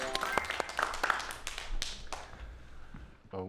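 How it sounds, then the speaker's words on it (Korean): Audience clapping at a Korean science talk on time travel, scattered claps rising into a brief round of applause that fades, with a short burst of speech at the end. "자, 박수로 청해 보도록 하겠습니다."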